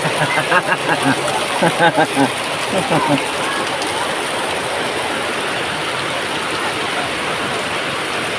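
Strong floodwater rushes in a continuous loud roar, with excited voices shouting over it in the first few seconds before the torrent carries on alone.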